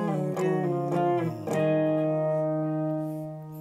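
Lead electric guitar plays an octave line from the bridge of the worship song Nadie Como Tu, three or four notes sliding into a long sustained final note, close and alone.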